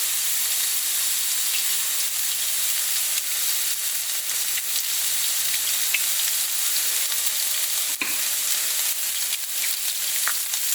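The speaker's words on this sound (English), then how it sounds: "You get a nice good sear across the face of it." Steak searing in a hot pan, a steady broadband sizzle running without a break, with a few faint clicks and one sharp tap near the end.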